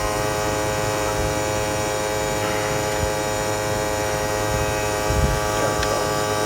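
The AC compressor of a 2008 Toyota Prius runs low on refrigerant at over 6000 RPM, giving a constant, loud, even electric whine and hum with faint clicks, and no talk.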